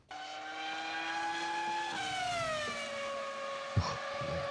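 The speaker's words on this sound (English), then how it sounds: "That's the old V10." An old Formula 1 V10 engine plays back as a recording, a high, rising and falling shriek of layered harmonics that shifts pitch midway. There is a brief knock near the end and no talk.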